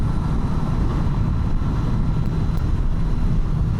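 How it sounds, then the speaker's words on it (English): Steady, loud wind buffeting a rider on a 2025 Kawasaki Z900 inline-four motorcycle at cruising speed, a continuous low roar with no talk. "Wind is hitting me, that's hitting me, I'd say mid-chest"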